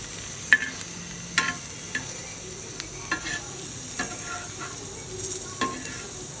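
Paneer and potato kebabs shallow-fry in butter with a soft steady sizzle, and a few light taps and clicks from a pan or spatula stand out.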